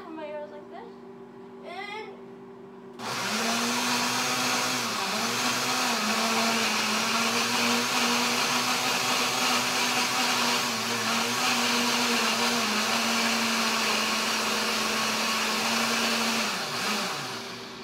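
A kitchen blender churns brownie batter in a loud, steady drone that starts abruptly after a few seconds of quieter sound, its motor pitch dipping briefly now and then as the load shifts.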